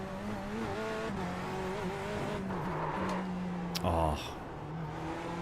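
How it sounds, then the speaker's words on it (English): A tyre lock-up skid in iRacing at Snetterton, a short harsh squeal over a droning race-car engine that stops after about a second, with a voice speaking briefly over the engine. "Bad lock-up."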